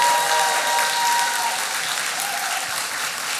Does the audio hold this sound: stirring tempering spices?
no